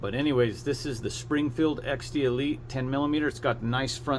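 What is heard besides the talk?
No everyday noise stands out behind the speech.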